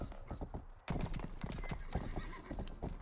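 Hooves clip-clop rapidly as a horse moves in the medieval video game Rustler. The hoofbeats are busy and fairly close, with a brief lull before they pick up again, and faint voices sit underneath.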